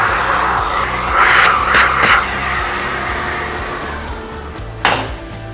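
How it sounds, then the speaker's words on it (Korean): A vacuum cleaner roars steadily inside a Compak K6 coffee grinder, a loud, close, continuous motor drone with brief surges of airflow and a sharp bump near the end, with no voices. "그라인더 내부에 청소기, 진공 청소기도 되고, 자, 청소를 해볼게요."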